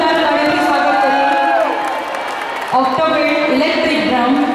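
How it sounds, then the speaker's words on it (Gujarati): An audience welcoming musicians with clapping, cheers and whoops at a live music show, a dense crowd noise full of shouting voices that dips briefly midway and then swells again. "જોરદાર તાળીઓથી સ્વાગત કરીએ."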